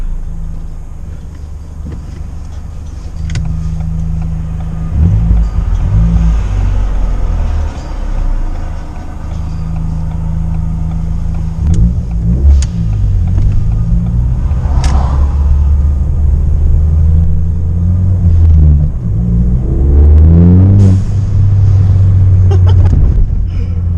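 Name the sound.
car engine revving with blow-off valve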